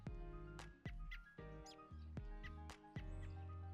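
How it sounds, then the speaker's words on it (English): Sampled bird calls from a video game repeat as a series of sharp, bright chirps and tonal peeps at an uneven rhythm, layered over a sustained, mid-loud melodic backdrop. "Are we listening to Sampled Birds?"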